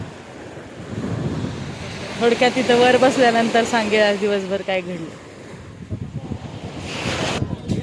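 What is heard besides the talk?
sea waves at the shore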